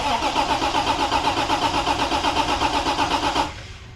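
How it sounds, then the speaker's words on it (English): A 34-year-old Toyota 4Runner engine cranks steadily on a new starter, a rhythmic churning from the starter motor, close and loud, then stops abruptly near the end. "with the engine actually cranking over and the starter working"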